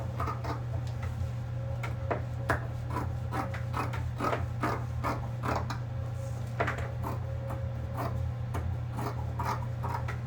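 Scissors or a cutting tool working through fabric while cutting out a pencil dress pattern, with repeated short rasping snips and rubbing strokes in an irregular rhythm, close and fairly loud over a steady low hum.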